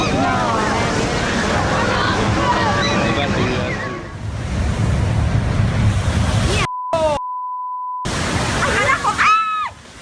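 Large storm-driven ocean waves crash in a loud, continuous roar of surf with wind buffeting the microphone, overlaid by narration and breaking off in abrupt cuts near the end.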